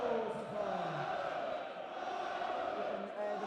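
A darts crowd chants in a large arena, a continuous, fairly distant roar of massed voices in a sustained rhythmic drone, faint and muffled throughout.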